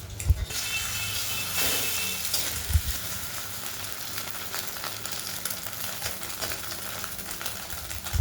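An egg-dipped wrap sizzles in butter in a pan, a steady close hiss of frying with a few soft knocks and scrapes, no voices.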